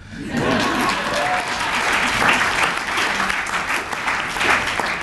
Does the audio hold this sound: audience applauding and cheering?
yes